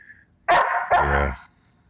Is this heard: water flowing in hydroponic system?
no